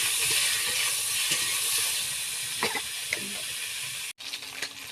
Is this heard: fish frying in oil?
yes